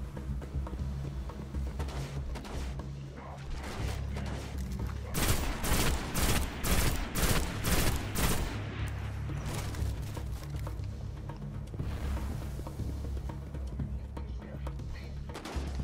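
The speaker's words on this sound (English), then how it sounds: "I'm gonna switch back to my sniper rifle" Gunfire in the video game Destiny comes in a dense burst of sharp repeated shots midway through, over a steady game soundscape with sparser impacts before and after.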